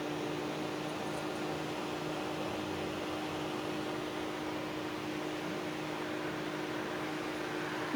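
An electric heater fan with a seized motor runs as a steady, even whir with a constant tonal hum, unchanging for the whole stretch with no voices.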